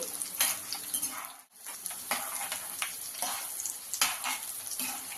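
Tempering of cumin, crushed garlic and dried red chillies fries in oil for tomato pickle, a dense close sizzle with frequent crackles and stirring clinks, briefly dipping before resuming, no talking.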